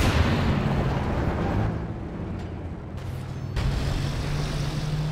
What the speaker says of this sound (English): Oh, it's a mine.